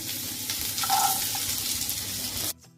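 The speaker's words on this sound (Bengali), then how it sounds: "সবজিগুলোকে ভালো করে ভাজবো।" Vegetables and rice fry in hot white oil, making a continuous loud sizzle with light stirring scrapes before the sound cuts off abruptly near the end.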